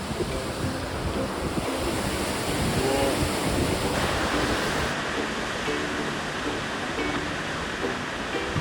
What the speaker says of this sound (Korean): 한 5분 되니까 다리안 폭포가 나왔습니다.